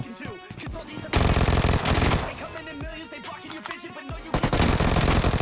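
Dense, loud automatic gunfire in PUBG, sustained rattling bursts near and far overlapping continuously with brief lulls, under faint voices.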